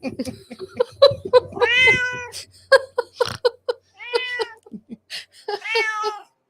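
A cat meows several times in short, drawn-out cries in a home setting, mixed in with people talking close by.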